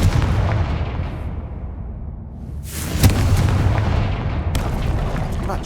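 A Confringo fire spell in the Hogwarts Legacy video game goes off as a single booming, explosive blast. It cuts sharply through a rumbling background, followed by a crackling, debris-like tail.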